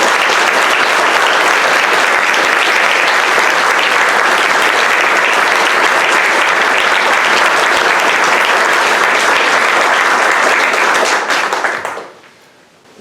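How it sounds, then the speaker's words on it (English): A crowd at an LGBTQ+ vigil in Monterey County, California, gives a long, dense round of applause that holds steady and loud for about eleven seconds before quickly fading out. "give them a thank you by a round of applause"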